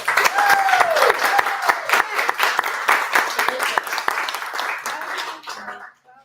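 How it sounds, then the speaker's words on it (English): A small live audience claps after tasting Ronto wraps, a warm burst of applause that thins out and fades to silence, with a voice speaking over it near the start. "Clap if you like the Ronto wraps."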